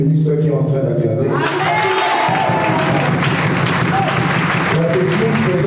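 A church congregation cheers and applauds at a Saturday Goshen 2025 service. Sustained loud clapping and shouting rise abruptly after a moment of talk and music and continue unbroken to the end.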